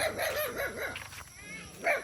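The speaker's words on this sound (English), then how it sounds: "so we'll bypass the dogs in case they want to start barking" Several dogs barking in a rural mountain village of Cabayugan, Philippines, a run of rhythmic mid-distance barks followed by a pause and one more loud bark near the end.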